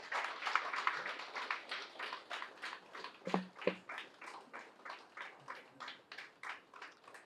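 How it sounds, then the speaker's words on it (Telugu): Rhythmic clapping from an audience at an anniversary celebration at a pyramid in Kakumanu, steady repeated claps for several seconds with a couple of sharper knocks near the middle. "వారికి ఒకసారి గట్టిగా క్లాప్స్ తెలియజేద్దాం"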